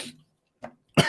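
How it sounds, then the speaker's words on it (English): Close, fairly quiet coughing from one person during a live stream, with a short cough, a brief pause, another small cough, then a sharper louder one at the end. "sorry, I'm still coughing."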